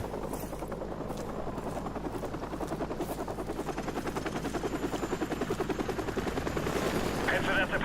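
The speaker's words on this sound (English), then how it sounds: "from where I put Captain Macmillan, he just he shoots a couple of people" Gunfire from a soldier in the Modern Warfare Remastered campaign, a fast, steady rattling of shots that runs through the whole stretch and builds slightly, layered over a helicopter-like drone of game action.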